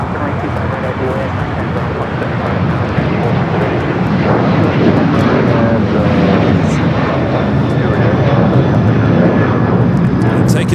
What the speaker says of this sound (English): Yet another United 757-300.